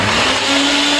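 A kitchen blender is switched on and runs loud and close, a high steady whirring motor whine that fills the short stretch without pause.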